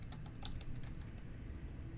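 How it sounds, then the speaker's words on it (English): Fast, light keystrokes on a computer keyboard, a steady patter of clicks over a low background hum, with no voices. "right now I'm gonna show you that I just type in"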